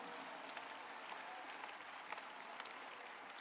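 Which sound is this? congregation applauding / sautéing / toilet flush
congregation applauding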